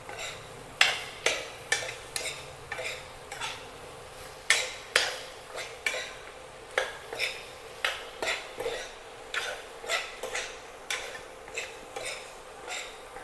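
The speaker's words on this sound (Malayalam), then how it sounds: "നല്ലോണം മിക്സ് ചെയ്യണം, മസാല എല്ലാം എല്ലാത്തിലും പിടിക്കുന്ന പോലെ" Soya chunks stirred with masala in a pan, Kerala style: a spatula scrapes and knocks against the pan in a steady repeating rhythm of sharp, close strokes, about one per second, over a faint sizzle.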